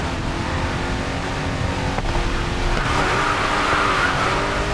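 Bugatti Chiron sliding through a turn in the Racing Master video game, a sustained engine drone with tire skid noise and a brief click partway through.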